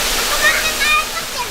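A loud, steady rush of falling water from a waterfall that drops into a spring-fed pool, a close and continuous roar.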